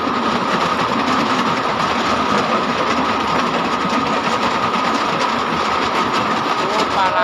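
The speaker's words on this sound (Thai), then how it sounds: "รถไฟมาแล้วพี่น้อง" Steady, loud rumble and rattle of a train in motion, wheels clattering on the rails throughout with no pause.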